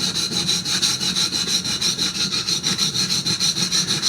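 Rapid rhythmic back-and-forth scraping of a chisel's flat back on a waterstone, about five strokes per second, close and even, with no voices.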